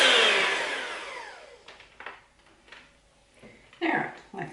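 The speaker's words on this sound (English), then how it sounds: "So I'm going to grab my beater and I'm going to mix this up" An electric beater whirs loudly in dessert batter at the start, then fades out, followed by scattered kitchen clatter and brief bursts of noise.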